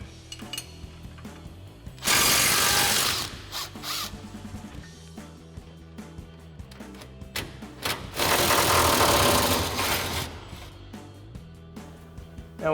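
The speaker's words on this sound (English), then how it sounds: "we're gonna go ahead and grab our 21mm socket and our impact and a 21mm wrench" An impact wrench fitted with a 21mm socket removes shock absorber bolts on a GMC Sierra 1500 during a suspension lift install, firing in two loud, sustained rattling bursts between quieter clicking and clanking of tools.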